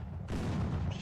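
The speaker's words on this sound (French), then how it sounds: "C'est un fusil antimatériel leur sniper ou quoi?" An anti-materiel sniper rifle shot in a video game: a single heavy, muffled boom that hits suddenly and rings briefly, at low overall volume.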